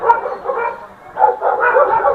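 A dog barks at a monkey around a temple hill in Kathmandu, giving a run of short yapping barks close to the listener, with a brief lull midway before the barking picks up again.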